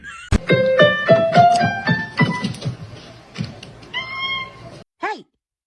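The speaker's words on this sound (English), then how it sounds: "Let me hear a meow." A cat meows several times in a row, clear harmonic cries close by with a short pause and a last rising meow at the end; no one speaks over it.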